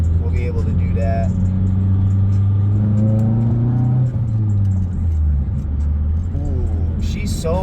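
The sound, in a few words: car engine revving while driving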